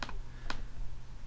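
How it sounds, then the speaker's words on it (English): A password typed on a Mac computer keyboard: two quick, sharp key clicks, a brief double tap followed half a second later by a single click, close and clear over faint room hiss. "Typing in my password, it doesn't show any of the letters I'm typing"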